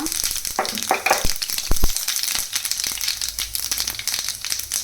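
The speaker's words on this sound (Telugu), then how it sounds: "ఇప్పుడు మనం తాలింపు ప్రిపేర్ చేసుకుందాం. 1 tablespoon సాయి మినపప్పు, 1 tablespoon ఆవాలు, కొంచెం జీలకర్ర," Urad dal, mustard seeds and cumin tempering in hot oil, crackling and popping up close with scattered sharp spits, rustling bursts and scraping over a continuous sizzle, and no voices.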